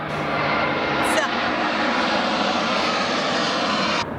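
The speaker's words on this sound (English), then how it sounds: "we still got the airplanes" A jet airplane passes overhead near the busy airport at Key West, its broad, steady engine roar loud and continuous throughout, with a brief voice cutting in near the start.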